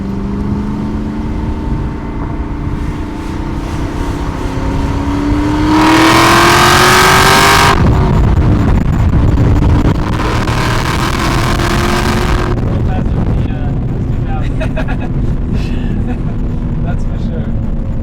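An Aston Martin V8 Vantage accelerates under load with a loud, close engine roar. The pitch climbs through two strong surges and then settles to a steady drone.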